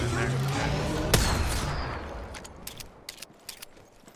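Gunfire in a multiplayer shooter game, a loud sharp shot followed by a burst of bright crackling and a string of fainter pops trailing off, with brief chatter from players.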